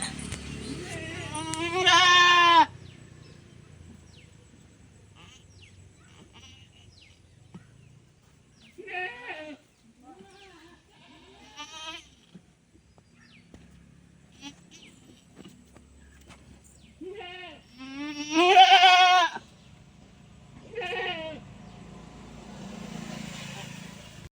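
A nanny goat bleats to call her newborn kid to suckle on a farm, with several wavering bleats spaced across the clip, two of them loud and close, over faint background noise.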